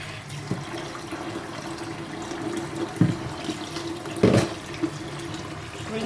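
Soaked parboiled rice rinsed under running tap water in a bowl, a steady faint flow with a few louder splashes and sloshes near the end.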